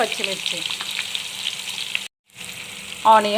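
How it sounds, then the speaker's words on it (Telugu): Chopped onion fries in hot oil with cumin and mustard seeds in a pan, giving a steady close sizzle with light stirring scrapes. The sound cuts out briefly, then returns with a louder burst of frying. "ఆనియన్ ఇలా బ్రౌన్ కలర్ వచ్చేంత వరకు వేయించుకోవాలి."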